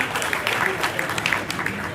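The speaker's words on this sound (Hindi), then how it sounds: "एक बार सरपंच साहब के लिए जोरदार ताली।" A crowd claps for the sarpanch at a community gathering, a short burst of dense, steady applause at moderate loudness.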